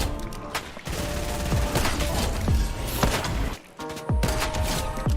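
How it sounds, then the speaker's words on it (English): Gunfire in the video game Fortnite, including sniper rifle shots, a dense run of loud sharp cracks and booming reports with short gaps, close and continuous over game noise. "All right, time to snipe."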